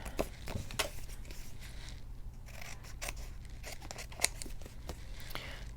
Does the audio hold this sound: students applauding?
no